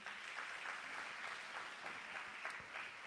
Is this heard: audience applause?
yes